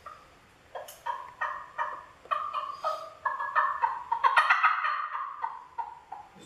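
A turkey hunting call imitates a gobble, giving quick bursts of rattling, warbling notes in a loose rhythm that builds to a denser run near the end, fairly soft and close.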